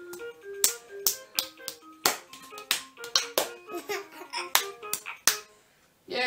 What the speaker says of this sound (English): Clapping your hands.